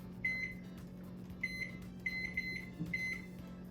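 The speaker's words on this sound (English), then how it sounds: "So I'm gonna set a timer on my microwave." A microwave oven beeps repeatedly as its timer is set, with short, clear, high electronic tones in quick bursts over a quiet background hum.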